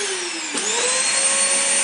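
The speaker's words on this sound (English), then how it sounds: "You have to turn on the vacuum." A vacuum cleaner runs steadily and loudly up close while cleaning out a PS4 Pro console, its whining motor pitch dipping briefly and then settling into a constant high drone, with no talking.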